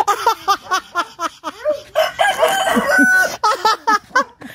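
A rooster crows loudly and close, amid rhythmic repeated clucking and squawking from nearby chickens.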